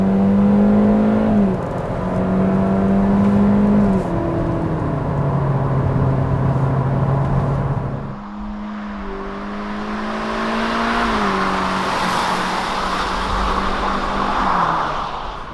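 A 2020 Hyundai Venue subcompact SUV with a CVT transmission drives along, its engine droning steadily from inside the cabin and rising and falling in pitch as speed changes, loud and continuous.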